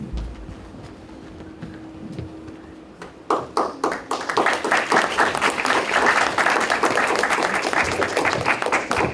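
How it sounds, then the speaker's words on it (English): An audience at a closing session of an international university symposium in Kyoto applauds the student organizers. A quiet room gives way to a sudden burst of many hands clapping that swells and holds steady, fairly close. "Please, more and more applause."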